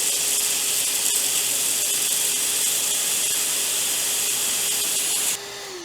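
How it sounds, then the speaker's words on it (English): A shop vac pulls string through an internal motorcycle handlebar: a loud, steady suction roar with a whining tone, which winds down abruptly just before the end. "Get our shop vac out and we should be able to pull this string right on through."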